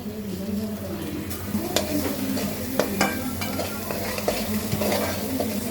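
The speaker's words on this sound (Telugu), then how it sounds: "మనం ఉల్లిగడ్డల పేస్ట్ వేస్తున్నామండి ఇప్పుడు అల్లం వెల్లుల్లి పేస్ట్ వేసుకున్నాం" Onion paste and ginger-garlic paste frying in oil for a Telangana fish curry, with continuous close sizzling and repeated stirring scrapes and occasional clinks of a spoon against the pan.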